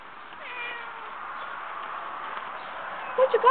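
A cat gives a few close meows near a stunned bird, heard under a person talking, with the calls clustered toward the end.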